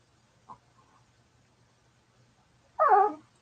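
A puppy gives a short, high whimpering whine near the end, close and clear, after a faint brief sound earlier, in an otherwise quiet room.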